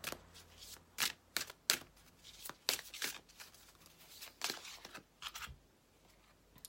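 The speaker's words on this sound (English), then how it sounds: "this is the first deck that we're going to shuffle" A tarot card deck is shuffled by hand with quick, crisp flicks and snaps in irregular bursts, close and fairly soft, with no talking.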